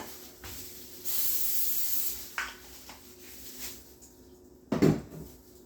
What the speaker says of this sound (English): We're gonna spray the pan with a little non-stick spray.